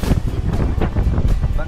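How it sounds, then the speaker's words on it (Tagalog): Strong seaside wind at Lemery, Batangas buffeting the microphone in heavy, rumbling low gusts that pulse irregularly and drown out everything else. "Sobrang sarap dito. Lakas ng hangin."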